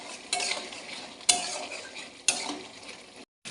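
Spice paste masala for chana masala stir-fried in a pan, a sizzling hiss broken by three sharp scraping strokes of a spatula, then a brief silence.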